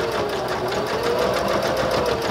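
A sewing machine stitches through a bulky fabric handle cover for a bag, a steady, fast, even mechanical whir up close that runs without pause.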